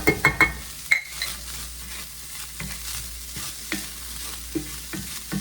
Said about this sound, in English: I'm browning a pound of ground beef.